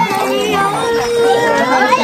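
Children shout and chatter in a noisy, echoing crowd at the entrance of Timubo Cave on Camotes Island, Cebu, a continuous lively din of young voices.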